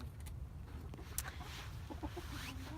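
Golden laced Wyandotte hens ranging around a backyard coop cluck softly and intermittently, quiet and fairly close, over low steady outdoor background noise.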